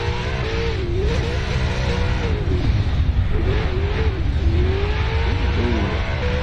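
Honda Prelude drift car engine revving hard at a drift event, with a loud, sustained engine roar rising and falling in repeated waves and tire noise underneath.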